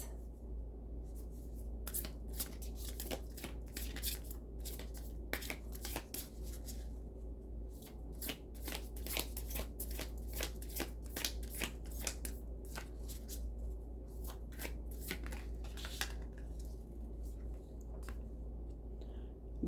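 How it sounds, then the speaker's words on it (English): A deck of oracle cards is shuffled at close range, a quiet run of rapid riffling flicks and soft slaps repeating in bursts over a low steady hum. "Now let's take a card from the Oracle of the Angels."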